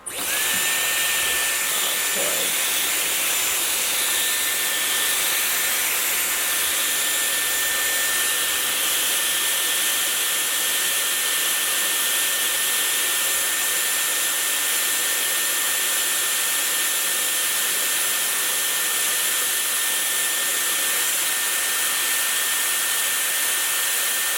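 Dyson Airwrap hair styler blowing air steadily while curling hair, a loud, constant whirring hiss from close by that runs without a break and with no talk over it.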